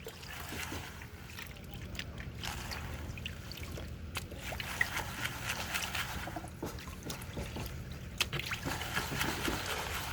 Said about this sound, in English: rinsing off that dirt and look through this